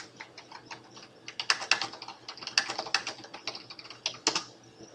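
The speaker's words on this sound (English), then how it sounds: "type them here." Someone types a comment on a computer keyboard, producing quick irregular bursts of soft key clicks close by in a quiet room.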